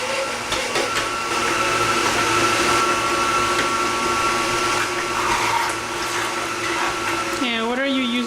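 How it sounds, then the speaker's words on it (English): A roughly 35-year-old Oster Kitchen Center runs loud and steady while pureeing fresh tomatoes for juice, a continuous motor whine with wet churning that holds evenly before shifting pitch near the end. "This is my Oyster Kitchen Center. It's about 35 years old."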